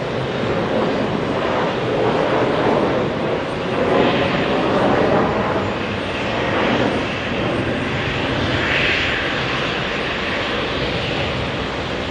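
Airplane at JFK airport, a steady loud broadband engine roar that holds for the whole stretch with only slight swells, no talking over it.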